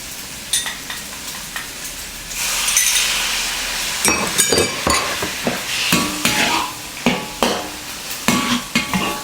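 Seasoning mixture stirred into yaki udon noodles frying with vegetables over high heat: steady sizzle with scraping stirs and light clinks of utensils against the pan, close and busy, no talking.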